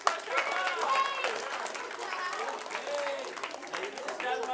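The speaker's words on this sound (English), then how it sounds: "Big round of applause for my first helper." A live audience claps for a volunteer helper, a short burst of applause that stays steady and then fades as someone speaks over the clapping.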